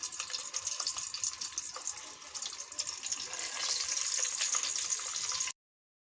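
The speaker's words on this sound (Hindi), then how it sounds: "पैन में मैंने ऑयल डाला और ऑयल गर्म हो चुका है। इसमें मैं शिमला मिर्च रख दूँगी।" Bell peppers fry in hot oil in a pan, giving a dense, steady close sizzle and crackle that holds for several seconds before cutting off abruptly.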